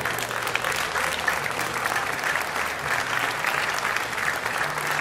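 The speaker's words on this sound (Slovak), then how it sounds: "ktorú ste i dnes prišli pozdroviť svojim aplauzom" Steady, dense applause from a live audience honoring Slovak folk singer Mária Mačošková at her jubilee celebration in Svidník, continuous clapping at even loudness throughout.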